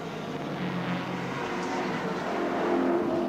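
Turbocharged Nissan Bluebird touring cars race at Sandown Park in the 1982 Australian Touring Car Championship, giving a sustained, fairly loud engine roar with no breaks.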